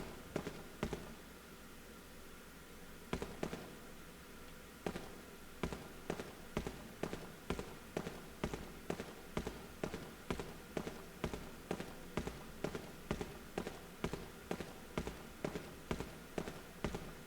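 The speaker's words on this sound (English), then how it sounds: "Jeez, walk any louder, Leon." Heavy footsteps of a video game character thud in a steady, loud rhythm of sharp impacts. After a brief early pause the pace settles into regular strides, with no talking over them.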